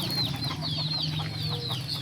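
Several chickens cluck and chatter close by in a backyard farm, a busy overlapping run of short calls over a low background hum.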